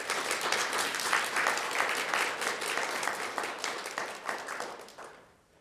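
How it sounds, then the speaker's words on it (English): An audience applauds graduates at a Doctor of Behavioral Health commencement ceremony, dense sustained clapping filling the hall for several seconds before tapering off at the end. "Let's give them a round of applause."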